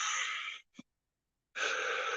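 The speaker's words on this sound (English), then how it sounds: "You can breathe several deep breaths." Two long, loud rushes of deep breath during a guided shamanic group healing session, the first ending in a short catch of breath, then a pause of silence before the next full breath begins.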